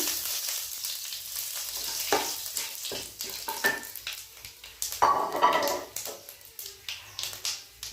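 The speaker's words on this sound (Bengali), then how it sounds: "তেলে দিলাম চারটে মাঝারি সাইজের তেজপাতা এভাবে একটু ছেড়ে দিলাম একটু পাঁচ ফোড়ন দিলাম" Bay leaves and panch phoron five-spice sizzle in hot oil for a cauliflower dish. The frying is quiet and steady, with scattered crackles and pops and faint stirring, and no voices.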